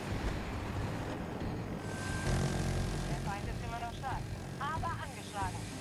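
Helicopter in an online war video game, a steady whirring engine drone close up throughout, with someone speaking German over it during the second half.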